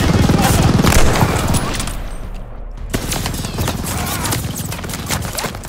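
Rapid machine-gun fire from a German half-track in Call of Duty: Vanguard rattles loudly and continuously, dipping briefly before resuming in dense bursts amid battlefield noise.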